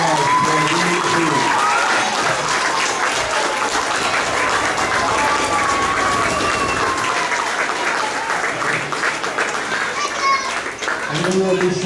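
Loud, sustained applause from a crowd at a Cub Scout pack graduation and awards ceremony, dense clapping with children's voices and chatter underneath, and a voice briefly heard near the end.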